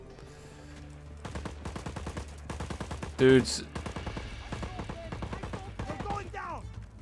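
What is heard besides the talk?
gunshots in the video game Just Cause 4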